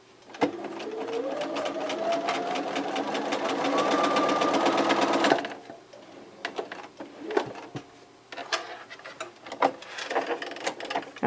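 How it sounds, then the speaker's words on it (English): A sewing machine running a quarter-inch seam on quilt top fabric, one continuous whirring burst lasting about five seconds, then scattered handling clicks and rustles. "just sew with a 1/4 inch seam"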